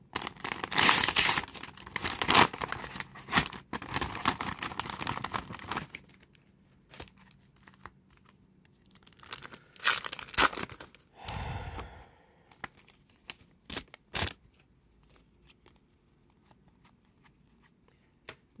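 A Topps Euro 2024 trading card multi-pack wrapper is torn open, with a long loud crinkling rip, then quieter rustles, crackling bursts and handling noises as the cards are pulled out.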